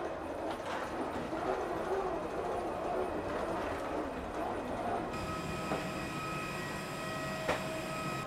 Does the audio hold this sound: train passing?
yes